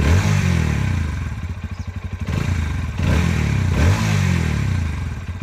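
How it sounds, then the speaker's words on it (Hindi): A Bajaj Pulsar NS160 motorcycle engine fires up and settles into a steady, close idle, with a throbbing pulse and a couple of brief blips in engine speed, and no voices. "इग्निशन देते ही इंजन फायर हो जाता है और ऑलमोस्ट उतनी ही जल्दी एक स्टेबल आइडल पे सेटल भी हो जाता है"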